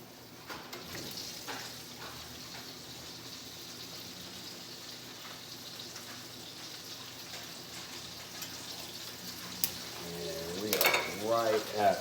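Steaks sizzling in a pan during a keto steak dinner, a faint steady frying hiss that runs throughout, with a few sharper clatters near the end.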